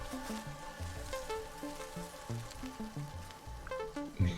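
Ambient background of the Satisfactory video game, a faint layered soundscape of soft sizzling, crackling noise and scattered low tonal blips with a steady hum, no speech.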